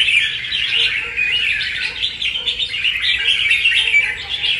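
A wild-caught songbird from the limestone mountains of Lang Son sings a continuous, bright run of chirps and warbling phrases, close and fairly loud, with no voices over it.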